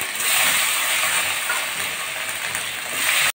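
Potatoes dropped into a hot pan of oil for a tilapia fish curry with bottle gourd, giving a loud, steady sizzling hiss that holds for about three seconds before cutting off abruptly.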